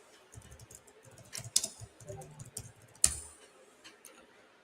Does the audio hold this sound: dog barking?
no